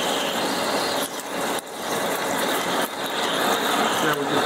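A machine tool counterbores a top coupling at roughly 180 RPM, giving a steady, close mechanical whir and cutting hiss with a few brief dips in level.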